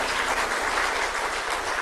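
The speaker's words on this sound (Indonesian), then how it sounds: "Tepuk tangan untuk beliau sekali lagi." Audience applause at a formal speech event, a steady dense wash of clapping from a large crowd, fairly loud and continuous without talk over it.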